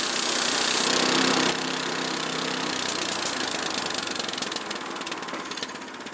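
Sawmill engine running while cutting boards from wood: a loud, steady engine roar that drops in level after the first moment and then slowly fades, with no talking.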